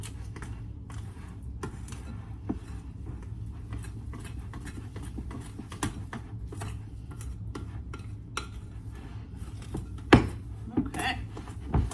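Dough for ancient Babylonian cakes being mixed by hand in a bowl, giving steady soft scraping and clinking of utensil against the bowl throughout, with a few sharper knocks near the end.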